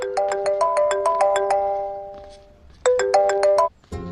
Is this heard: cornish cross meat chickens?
no